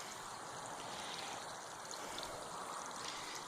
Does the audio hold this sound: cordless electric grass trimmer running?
no